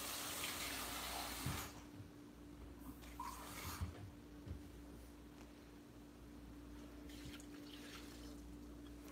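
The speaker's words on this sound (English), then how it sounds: "let's go ahead and add some water to that" Tap water runs into a cooking pot for about a second and a half, then stops, leaving a quiet kitchen with a steady hum and a few faint clinks and splashes.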